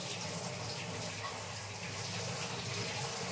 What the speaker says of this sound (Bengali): এখন ফলগুলো এবার ধুয়ে নিচ্ছি।